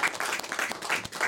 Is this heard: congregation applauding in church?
yes